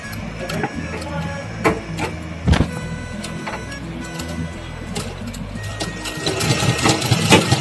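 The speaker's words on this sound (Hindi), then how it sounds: "अब इसी तरह सिलाई चलाते जाऊंगी।" A sewing machine stitches fabric with short bursts of mechanical whirring broken by brief pauses and clicks, growing denser and louder toward the end as the fabric is turned and fed through.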